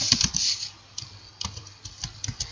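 Keys clatter on a computer keyboard while Python code is typed, a quick close-up flurry of sharp clicks followed by steadier, evenly spaced taps, with no voice.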